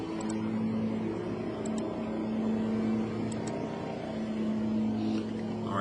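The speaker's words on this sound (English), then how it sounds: "Sorry for the noise, they're doing some mowing." A lawn mower mowing outside drones steadily at a fixed pitch for the whole stretch, a constant engine hum in the background with no speech over it.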